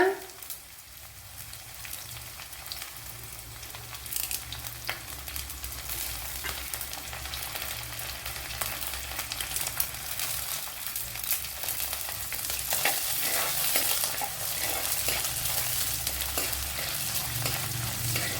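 Green chillies and other ingredients for a Kerala-style vaala fish curry fry in a pan, producing a continuous close sizzle that grows slightly louder and brighter toward the end, with occasional stirring and no talk.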